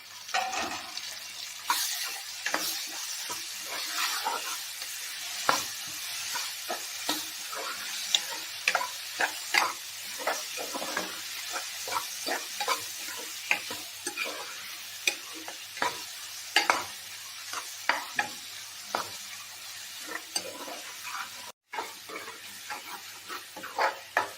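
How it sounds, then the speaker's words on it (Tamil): Tomatoes go into golden-fried onions for an Andhra-style fish curry, sizzling steadily while a spatula stirs and scrapes the pan in frequent, uneven strokes, close and moderately loud. "வெங்காயம் எல்லாம் நல்லா பொன்னிறமாக மாறிடுச்சு இதில் இப்போ தக்காளி சேர்த்துக்கலாம்"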